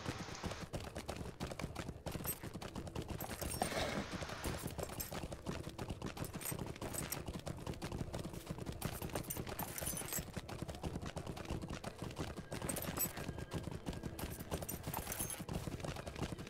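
Horse hooves in the online game The Lord of the Rings Online, a continuous fast, even clip-clop at a gallop, loud and close throughout the clip.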